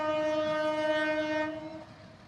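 A passenger train on the Junagadh to Sasan Gir forest line blares its horn in a loud, sustained, steady chord that holds for nearly two seconds, then fades slightly under the rumble of the running train.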